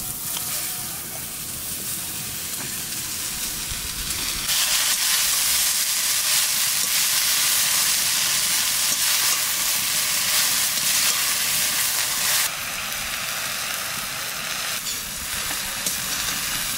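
Water spinach greens tossed into a pan of hot oil with fried dried red chilies, chopped garlic and onion, setting off a loud, steady sizzle that jumps up sharply partway through and holds as a dense, continuous hiss.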